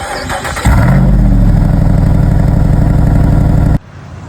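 The 392 V8 engine of a Jeep Wrangler cranks and fires up into a loud, deep, throbbing exhaust rumble that idles heavily, then cuts off abruptly.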